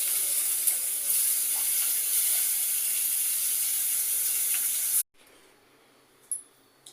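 Onion and tomato fry with ginger garlic paste in a pan, a loud steady hiss and sizzle close up that cuts off abruptly near the end, followed by quiet room sound and a brief clatter.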